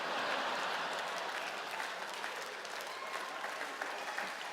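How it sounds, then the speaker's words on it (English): Audience applause at a Just For Laughs stand-up comedy show, a steady wash of many hands clapping at moderate distance, sustained evenly throughout with faint crowd noise mixed in. "I don't understand what you're applauding"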